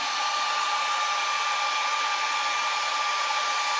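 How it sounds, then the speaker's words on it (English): A heat gun set to low, warming up before being used on gunstock finishing, gives a steady close airy blowing hiss with a faint constant whine, unbroken throughout and with no talk over it. "Put the heat gun on low, let it get warmed up."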